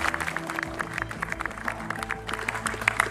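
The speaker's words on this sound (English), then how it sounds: "give yourselves a round of applause" Members of a US Navy fighter squadron, the VFA-115 Eagles, applauding together at a gathering, a moderate steady patter of clapping over low background hum, with a faint voice heard near the end.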